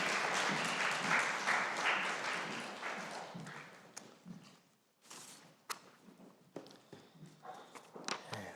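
Applause from a church congregation at a New Year thanksgiving service on an air force base, dense clapping that thins out into scattered claps.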